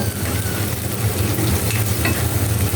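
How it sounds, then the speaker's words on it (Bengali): Frying for a taro curry with prawns sends up a dense, constant sizzle from the pan, close and fairly loud throughout, with faint stirring textures and no voices. "এটা ভালো করে ভেজে নেব।"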